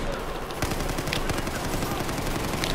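Rapid, continuous automatic fire from an AK rifle in the video game Battlefield 4 during a team deathmatch, dense and loud throughout the clip.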